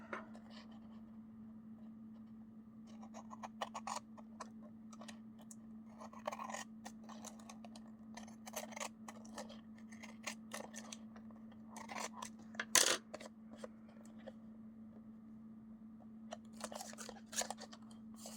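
Scissors trim around the edges of paper for a notebook setup, with intermittent close crisp snips and soft rustles in short bursts over a quiet steady hum, plus one sharper clack near the end.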